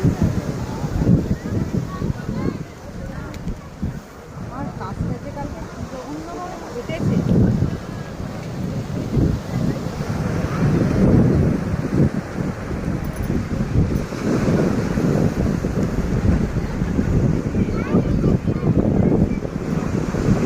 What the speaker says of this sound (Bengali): দেখতে পাচ্ছ বৃষ্টি হচ্ছে, তার মধ্যেই সমুদ্র।